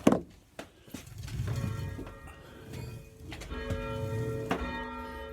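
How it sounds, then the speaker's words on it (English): A church bell rung by hauling down on its rope, heard as repeated loud, ringing strikes with long sustained overtones, interspersed with thuds of the rope and movement nearby. "pulling the church bell. So here we go."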